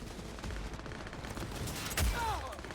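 Rapid machine gun fire rattles in the Cyberpunk video game, a dense continuous burst of shots over game ambience, with a heavier thump near the end.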